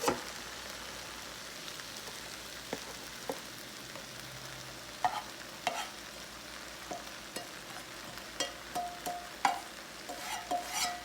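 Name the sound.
hash browns with onions frying in a pan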